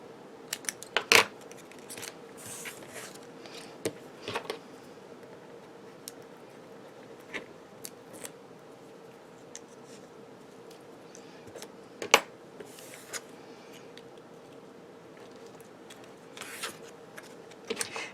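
Scissors cut a sheet of strong acetate for a papercraft fold card, giving sparse, quiet snips and clicks spread across a soft, steady background with no talking.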